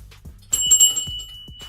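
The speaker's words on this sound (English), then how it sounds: "Can we get a bell ring?" A short bell ring sound effect dropped into a live fantasy football talk show, with a bright sustained ringing tone that starts abruptly, holds briefly and fades, heard over a faint low background.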